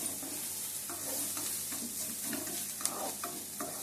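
Onions fry in a pan for a carrot beetroot fry, giving a steady loud sizzling hiss throughout, with soft scraping stirs and small pops scattered on top, close up and without talk.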